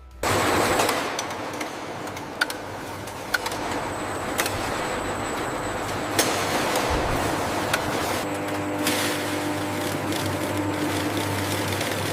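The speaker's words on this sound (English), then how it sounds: "the vibrant juice enters the high-speed filling line" High-speed bottle filling line filling papaya juice bottles in a processing plant, a dense loud continuous machine clatter with sharp rapid ticks and knocks, steady throughout with no voices.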